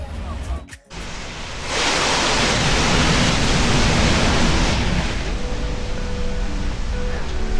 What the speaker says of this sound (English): sound of the sea hitting the rocks